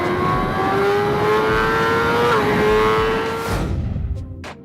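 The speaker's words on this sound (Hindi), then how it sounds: "Let's start a fresh lap at Circuit of the Americas on the exclusive BMW HP4 race." A BMW HP4 motorcycle circles a lap of Circuit of the Americas, its engine held in a loud, steady high-revving drone with smoothly shifting pitch, then fading away near the end as brief sharp bursts follow.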